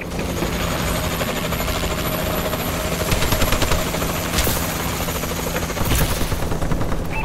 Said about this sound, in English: Friendly warbird in the air